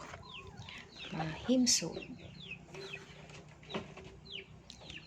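Chickens cluck and chirp softly at feeding time, busy overlapping calls close by under a man's speech.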